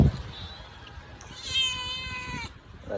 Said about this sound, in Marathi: मांजरा किती प्रेमाने जवळ येत आहेत